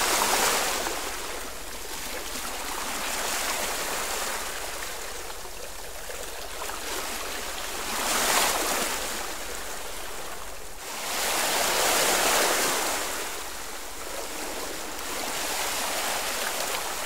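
Ocean surf and sea waves rolling in a steady broadband wash, swelling and receding in slow cycles every few seconds, close and loud with no voices.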